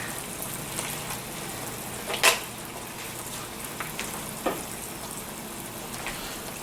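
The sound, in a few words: heavy whipping cream cooking down in a pan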